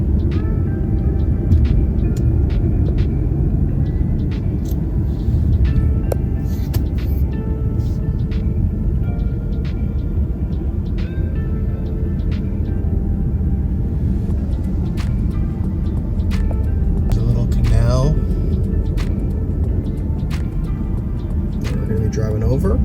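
A car drives along a road in South Venice, Florida, near the beach ferry, with a continuous engine drone and tire rumble that stays loud and even for the whole stretch.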